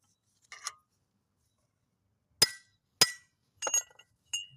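Hand chisel hammered against a seized hub bearing on the driver side of a Volkswagen, with five sharp metallic strikes spaced irregularly and ringing briefly in a quiet space.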